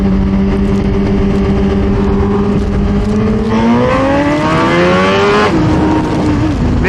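A 2023 Suzuki GSX-R 1000 sport bike engine revs hard on a stretch of road, pitch climbing steadily through the gears with a shift and a renewed rise, loud and close throughout.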